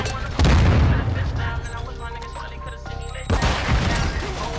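A grenade blast inside the shooter game Call of Duty: Modern Warfare II, heard as two loud, close booms a few seconds apart with rumbling gunfire-like noise between them.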